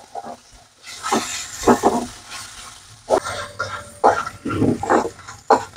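Horse gram with lentils and coconut is dry-roasted in a pan for chutney, with soft sizzling and repeated scraping stirs of a spoon against the pan in irregular bursts.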